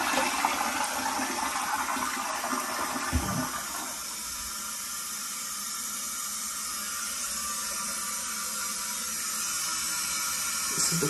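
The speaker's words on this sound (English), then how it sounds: "This is the full flush" A 1997 Kohler Portrait Lite dual-flush toilet does a full flush: a loud rushing whoosh of water for a few seconds, then a long steady hiss as the tank refills, heard close up with no talk.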